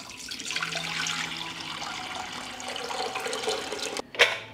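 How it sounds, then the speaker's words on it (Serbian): Warm water streams into a pressure cooker holding jars, a steady pouring wash that ends with a sharp knock near the finish. "U lonac ću sipati litar tople vode."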